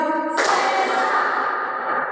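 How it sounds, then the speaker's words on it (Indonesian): Standing fourth-grade pupils clap twice in unison as a classroom spirit clap, a loud abrupt onset that rings into a dense lingering roomful of sound. "Tepuk semangat dua kali."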